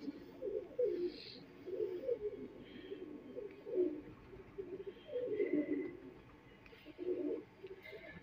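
Golden female and male pigeons coo in soft repeated bursts nearby, over a quiet background.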